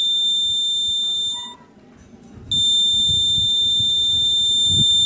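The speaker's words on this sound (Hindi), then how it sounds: "आप बजर का साउंड सुनकर आप बहुत इजीली मिनटों में आप सेट कर सकते हैं।" Steady high-pitched electronic buzzer tone from a homemade satellite dish signal finder meter tuned to DD Free Dish, cutting out for about a second midway, then resuming loud and continuous.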